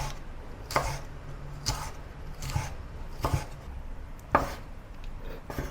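Knife chopping deseeded green chilies on a cutting board, a steady series of about five crisp, evenly spaced chops close up against a light background hiss.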